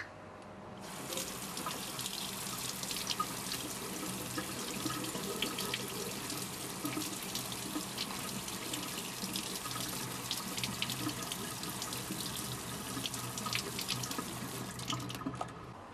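Water gushing steadily from a tap, splashed over makeup in a waterproof test; a continuous loud spray and hiss that lasts almost the whole time, alone without any talking.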